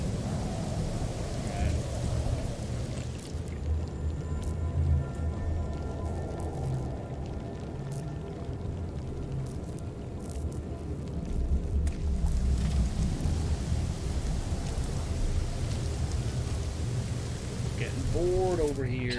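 Steady rain and stormy rumble from a No Man's Sky game world, a dense continuous wash with low thunder-like swells, talk heard over it.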